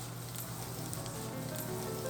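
Two cups of dried anchovies dry-stir-fry in a pan over medium heat without oil, giving a steady, soft sizzle and crackle close up with no talking.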